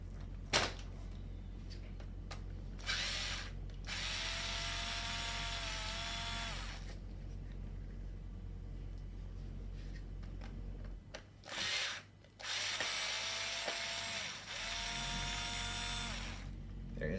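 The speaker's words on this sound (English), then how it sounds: "inside here are 2 screws, and you're going to remove those screws." Power driver whirring in repeated bursts while backing screws out of the front wheel housing of an Uppababy Vista stroller, close and steady, with short pauses and light handling clicks between runs.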